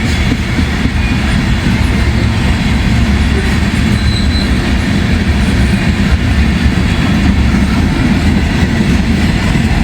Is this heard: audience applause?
no